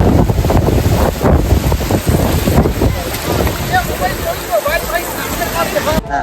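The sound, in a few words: strong wind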